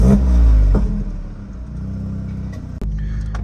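Audi S3 quattro tuned to around 500 hp, its engine firing up loud and close with a deep rumble, then settling into a throaty idle with a brief blip near the end.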